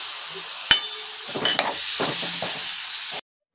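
Chopped onion and tomato going into a hot pan for paneer bhurji, a sharp clack followed by rising sizzle and scraping stirs, steady and close, ending abruptly.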